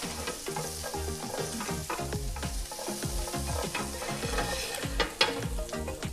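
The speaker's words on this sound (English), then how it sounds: "I'm going to put a little bit more oil in the pan, and I'm going to add a little bit of garlic" Garlic frying in oil in a pan for paella: a close, continuous sizzle with repeated scraping and stirring strokes of a utensil against the pan, loud and busy, with no talking.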